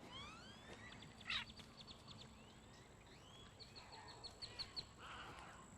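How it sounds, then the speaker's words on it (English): A snowy egret screams harshly at a Gulf Coast heron rookery in Galveston, Texas, its rasping calls rising among many other birds chattering and calling around a busy roost, moderately distant and alone without voices. "you can hear a snowy egret screaming like an angry child"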